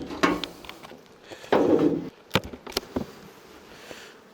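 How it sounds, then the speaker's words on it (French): Bees buzz around an opened beehive frame amid clatter from wooden hive parts, with brief sharp knocks and a short rushing burst, close by and intermittent rather than a steady hum. "il y a les abeilles"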